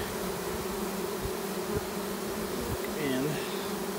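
Honey bees buzz steadily around a spring swarm, a dense close drone with individual insects passing near, alone with no talk.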